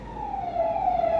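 An ambulance siren passing along the road, a steady wailing tone that slides slightly downward as the vehicle goes by, fairly loud with faint road rumble underneath.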